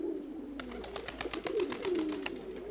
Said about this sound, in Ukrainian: Залишився сизий голуб, ось він.